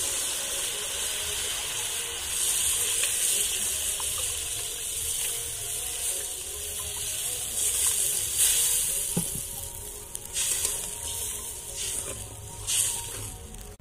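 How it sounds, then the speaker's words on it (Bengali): Water poured onto a fried spice paste in a hot pan for a village-style mourala fish curry, giving a loud steady sizzle and steamy hiss throughout with no talking. "মশলাটা কষানো হয়ে গেছে, আমি এবার এতে পরিমাণ মতো জল যোগ করে দেব।"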